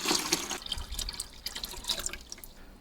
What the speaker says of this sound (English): we're going to go ahead and pour a little more in